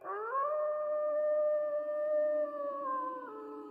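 A dog lets out one long, sustained howl that slides up in pitch at the start, holds steady and then tapers off, clear and alone with no talk.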